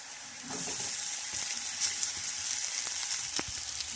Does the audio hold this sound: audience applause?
no